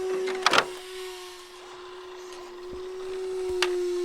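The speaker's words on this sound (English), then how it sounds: "That Protec fan is howling. It's making a ton of noise. It sounds like a vacuum, really." A steady whining tone from the electric cooling fan of a Traxxas Drag Slash RC car on a 3S LiPo battery drones throughout, with a few short clicks and thumps over it.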